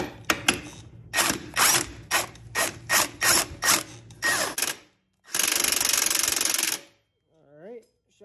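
Ratchet tightening a shock bolt on a rear axle, close rapid bursts of clicking in a quick rhythmic series, then one longer sustained run of clicks before stopping, with a brief voice at the end.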